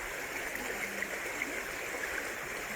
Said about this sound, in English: just, splashing some more water on there, see if something else pops out